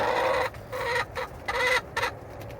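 Pet chickens cluck near their coop in a close, loud run of several bursts with short pauses between them, no one speaking.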